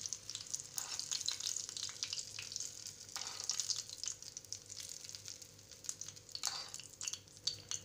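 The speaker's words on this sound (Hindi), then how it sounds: "अब हम तड़के को ढोकले पे डालेंगे।" Hot tempering with curry leaves poured over steamed suji dhokla gives a bright, crackling sizzle that rises in a few sharp bursts over a steady hiss, close and alone.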